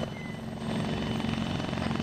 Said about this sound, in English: That helicopter landed outside.